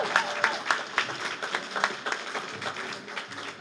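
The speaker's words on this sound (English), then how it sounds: "Can we have another extended round of applause for all of our performers and our partners here today?" An audience claps for performers at an Asian American and Pacific Islander Mother's Day celebration, a sustained round of applause with distinct individual claps standing out, gradually easing in strength.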